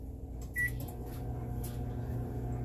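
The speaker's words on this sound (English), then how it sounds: "cleaning the inside of a microwave" A microwave oven runs with a wet sponge inside to steam-clean it, giving a steady low mechanical hum with a faint click near the start, no talking.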